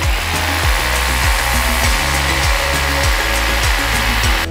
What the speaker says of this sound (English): make sure you're drilling straight